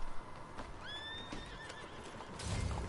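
A horse in the Red Dead Online video game gives a high, wavering whinny near the middle of the clip, with faint hoof clip-clops and background game ambience around it, no talking.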